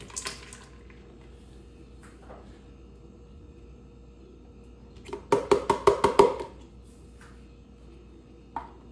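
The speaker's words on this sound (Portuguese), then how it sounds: "E a minha água com gelo aqui. Então, só jogar também." Ice water is tipped into a stand mixer bowl of Venturelli Alma Italiana flour for an autolyse dough, a quick one-second splash with clinking ice amid otherwise quiet kitchen sounds.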